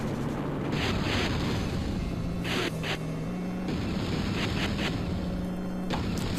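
Fire-rite rockets launched in the car combat game Interstate 76, repeated bursts of whooshing, roaring blasts over a continuous engine drone, with several spaced firings and brief sharp swells throughout.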